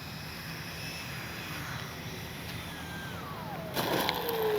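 A Freewing 90mm Zeus RC jet passes on its landing approach with flaps down, a steady airy jet whine with a falling pitch as it goes by, loudest near the end.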